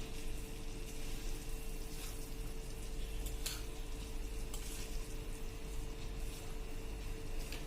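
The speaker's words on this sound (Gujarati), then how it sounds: "ગરમ છે એટલે તમારે ચમચેથી જ મિક્સ કરવાનું." A spoon stirring a hot rava laddu mixture of semolina in a pan, giving a steady soft scraping and sizzling hiss with a few sharper metallic scrapes, and no talking.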